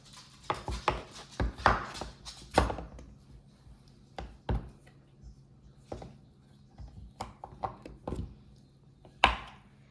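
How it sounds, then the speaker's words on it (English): Goat's milk soap base being chopped into small pieces with a knife on a board, a run of close, irregular thunking cuts in bursts with brief pauses, no talking. "I'm going to chop it up into smaller pieces so that it melts more quickly"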